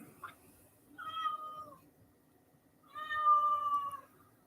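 A cat meows twice, drawn-out and fairly clear, with a short pause between the calls and quiet background otherwise.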